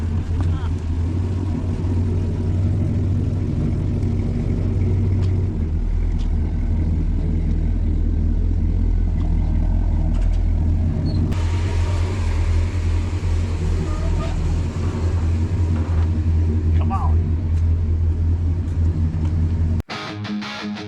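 A 1966 Dodge idles at a custom car shop early in the morning, giving a loud, continuous low rumble that fills the whole stretch before dropping off abruptly near the end.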